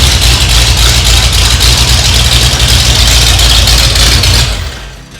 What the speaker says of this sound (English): Got a great idle too.